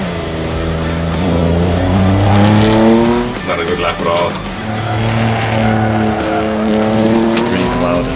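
A race car in a racing simulator skids sideways with tire squeal over a loud, rising and falling engine drone, while someone comments over it.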